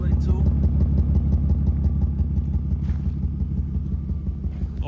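A car engine with a suspected blown head gasket idles close by, a steady low rumble with a rhythmic, slightly uneven pulse throughout.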